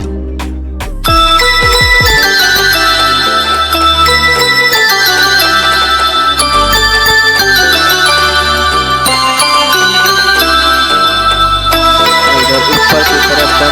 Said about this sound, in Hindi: तो इसमें से मैं कोई भी एक उठा लेता हूँ रिंगटोन